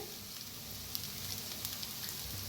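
A potato mixture with turmeric frying in a pan gives off a steady, close sizzle that runs unbroken throughout, with a few faint pops on top.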